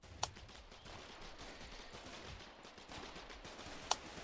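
Machine gun fire in the video game Foxhole comes as a faint, distant rattle of rapid shots spread across the moment, with two sharper, louder cracks standing out near the start and end.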